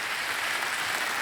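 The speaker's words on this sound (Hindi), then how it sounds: "एक बार तालियों के साथ हम आपका अभिनंदन करते हैं।" Studio audience applause on a TV quiz show: a short, soft burst of even clapping, faint and steady, with no voices over it.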